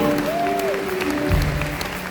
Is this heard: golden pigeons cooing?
no